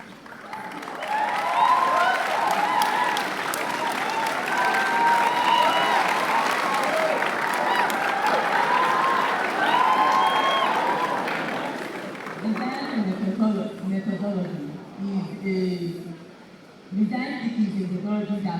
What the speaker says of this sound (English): Clap up, please.